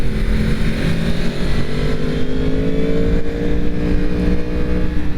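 A 2022 Yamaha MT-10 SP motorcycle rides through twisty roads, its engine a loud, continuous roar with pitch rising and falling as it accelerates, heard up close over steady wind rush.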